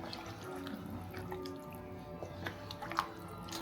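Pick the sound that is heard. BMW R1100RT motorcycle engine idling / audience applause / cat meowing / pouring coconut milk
pouring coconut milk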